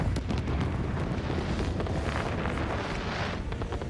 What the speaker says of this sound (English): Watch the fireworks in 4K 60fps.